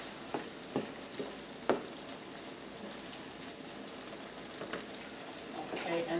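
Shepherd's pie filling being mixed after beef broth is poured in, soft wet sizzling and stirring with a few sharp utensil knocks against the pan, fairly quiet and close.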